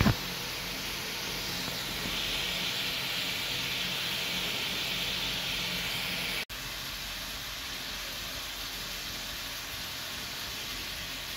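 Chicken and potatoes being stirred in a pan while turmeric and salt are added, giving a steady broadband sizzle with a brief dropout midway, with no talk.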